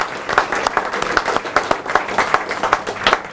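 An indoor audience claps at a Poole Pirates speedway rider signings event, a close, lively round of applause with distinct individual hand claps throughout.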